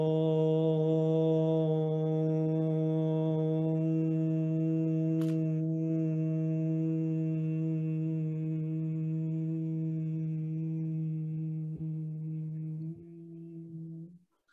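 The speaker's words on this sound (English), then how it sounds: "when you do the sound Om" A single voice sustains a long, steady, low Om chant in one breath, a deep resonant hum that holds evenly before tapering and closing at the end.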